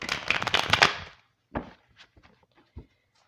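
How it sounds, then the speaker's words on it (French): Oracle cards being shuffled for a card reading: a dense, rapid riffle of papery flicks for about a second, then a few isolated card taps and slaps, close and fairly quiet with no talk. "on va aller chercher et piocher l'énergie pour ce tirage avec l'oracle de Béline"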